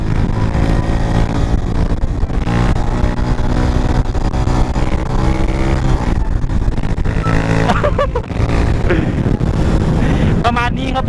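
Honda Wave motorcycle engine revving hard through a long wheelie and an upshift, a loud continuous buzzing drone with pitch swings near the end, with someone talking over it.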